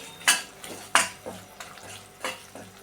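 Jaggery melting in ghee for a modak filling is stirred in a pan, with a few close, distinct scraping strokes at an uneven pace and no voices.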